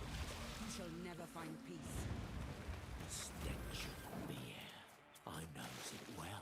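Rain weather effect in the Gwent card game, a steady wash of falling rain with rumbling low thunder-like texture, running continuously under someone talking over it.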